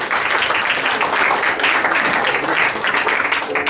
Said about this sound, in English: the tourists that are there, they applaud, applaud